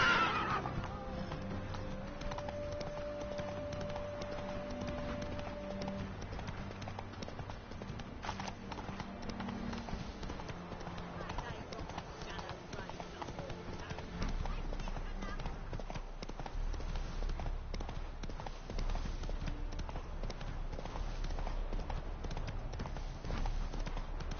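Roach, a horse in The Witcher 3: Wild Hunt, gallops with rapid rhythmic hoofbeats and occasional whinnies over a continuous game soundscape, the pace steady across the run.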